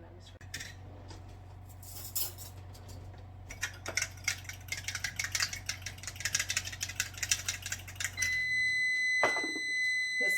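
Kitchen oven beeping once preheated, heard as steady electronic tones near the end after a stretch of clattering utensils and bowl-stirring noises, with a low hum underneath.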